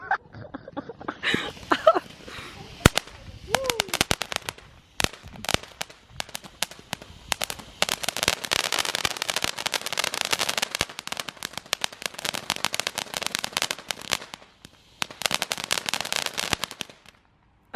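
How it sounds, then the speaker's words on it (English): Bonfire night fireworks going off outdoors, dense rapid crackling firecracker bursts in long rattling volleys, sharp loud pops separated by short gaps, with a few whistling tones early on. "You might as well put these fireworks in the matter."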